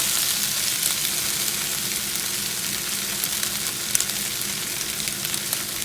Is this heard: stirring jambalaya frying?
yes